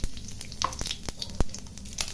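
Cumin seeds crackle and sizzle in hot cooking oil, a steady close frying hiss broken by a few sharp pops and spits, with no talking.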